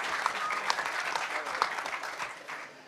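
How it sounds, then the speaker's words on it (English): Audience applause for the HackDC hackerspace group at a hacker conference talk, a dense steady wash of clapping from a large crowd lasting several seconds and tapering slightly at the end. "Give them a huge round of applause"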